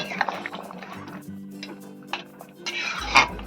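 A metal spoon stirs rohu fish curry with coriander leaves in a pot, giving a few sharp clinks and scrapes against the rim, spaced irregularly over a faint low hum, close and fairly quiet, with no talking.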